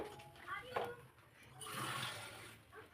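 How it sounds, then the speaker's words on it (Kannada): Water is poured into a pot of cooked dal for a South Indian dal sambar (bele saaru) in a home kitchen, a splashing, gushing pour of about a second mixed with faint background voices. "ಅದಕ್ಕೊಂಚೂರು ನೀರು ಹಾಕ್ತೀನಿ ಈಗ ಹೌದಾ ನೀರು ಹಾಕ್ತೀನಿ"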